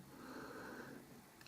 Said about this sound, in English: Sorry if you hear lots of snoring in the background.